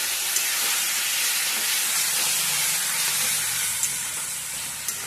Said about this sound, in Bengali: এখন আমি মশলাটা দিয়ে দেবো বন্ধুরা।